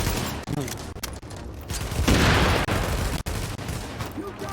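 Rapid gunfire and explosions in The Division, loud and dense bursts of shots with a heavy blast swelling in the middle, sustained close combat throughout.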